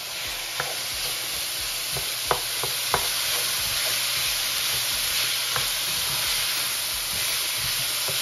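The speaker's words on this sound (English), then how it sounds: "We're just going to saute the onions quickly" Onions and peppers saute in a hot pan for chicken fajitas, giving a loud, steady sizzle and hiss up close. A few sharp clicks of stirring break through, and nobody speaks.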